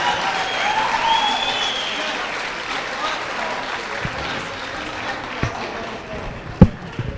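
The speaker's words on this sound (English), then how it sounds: "One final round of applause for all of our players tonight." A crowd in a gym applauds the players after a boys' all-star volleyball game: steady clapping that slowly fades, with a few sharp thumps and knocks near the end.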